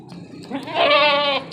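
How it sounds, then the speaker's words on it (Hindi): A single goat bleats once at a livestock market, a short wavering cry close by, with faint background noise before it. "एक बकरी है"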